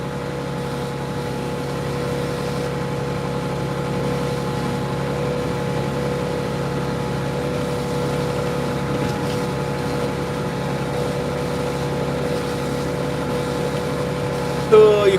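A tractor engine runs steadily in a field in November, a constant mid-pitched drone with a strong low hum that holds level and close throughout, with a brief louder bump at the very end.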